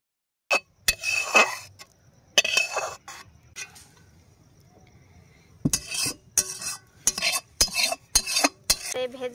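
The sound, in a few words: stirring sabudana khichuri in a pot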